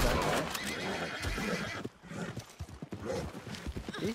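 A horse neighs loudly in Red Dead Redemption 2, its whinny carrying over clip-clopping hooves and rough background game noise, with a voice faintly underneath.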